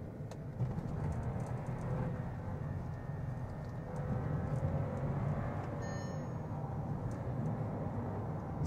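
Skoda Slavia engine and exhaust while driving in manual sports mode, a steady broadband drone with low rumble heard from inside the cabin, fairly quiet and continuous without clear revving peaks.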